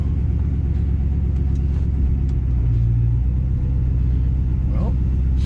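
The engine of a 1966 Buick Skylark with a Ford 9-inch differential rumbles low and steady inside the cabin while the car drives, loud and continuous, as a person talks over it.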